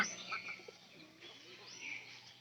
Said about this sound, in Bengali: ওই পায়রা ডাকতেছে